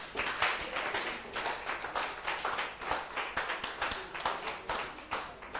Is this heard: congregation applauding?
yes